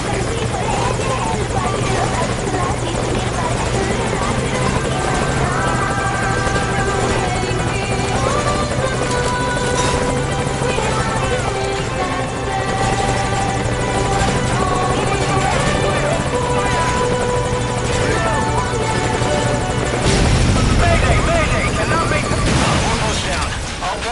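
A helicopter making a forced landing gives a loud continuous rotor drone with buzzing blade tones, close and steady throughout, with a swell of rushing noise near the end and voices over it.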